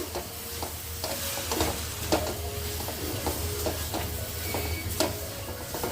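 A millet recipe mixture is stirred in a pan, giving a steady sizzling hiss broken by repeated soft scraping strokes at an even pace, close up, with no talking.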